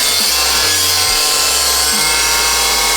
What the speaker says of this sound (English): Now we're gonna try something else. Plasma cutter.